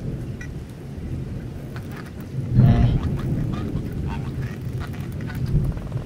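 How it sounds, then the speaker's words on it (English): Heavy rain pours steadily outdoors as a dense, constant wash, with a brief louder rumble partway through. "There is heavy rain, no doubt."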